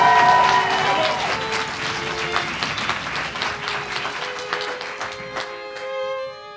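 Audience applause at an eloquence contest final, a dense steady clapping from a crowd that carries through the whole stretch and thins slightly near the end, with a few sustained tones mixed in.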